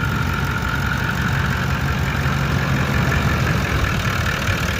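A vehicle engine runs at idle after a fuel filter change, a close, steady low rumble with an even mechanical knock that continues unbroken and without voices.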